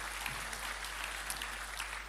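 Church worshippers at a Sunday morning service clap for a couple of seconds, heard as a faint, even wash of applause with no voices or standout claps.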